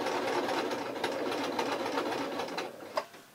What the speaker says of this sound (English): I'm going to ask the machine nicely to start sewing